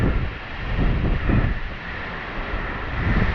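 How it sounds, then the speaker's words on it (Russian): Wind gusting through the crowns of two cypress trees atop a rocky Crimean slope, a steady broad rushing that swells and eases in soft waves, close and moderately loud with no voices. "Слышите, ветер сквозь кроны проходит, какой звук издает."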